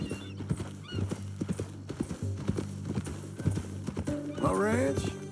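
Horse hooves clip-clop in a steady walking rhythm, closing with a loud whinny, in the video game Red Dead Redemption 2; voices talk over the hoofbeats.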